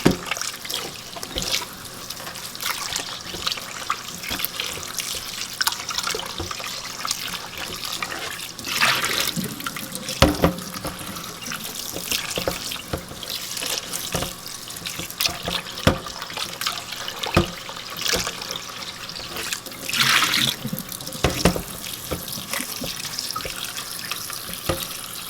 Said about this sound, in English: Then you just start working and pouring off all the excess water.